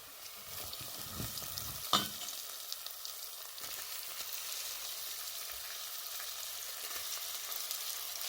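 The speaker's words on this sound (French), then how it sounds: "Je laisse sauter le tout pendant au moins 5 minutes pour laisser le temps à la tomate de bien frire" Tomato frying in a pan on the stove, a continuous bright sizzle with a single stirring scrape near the start, steady and close throughout.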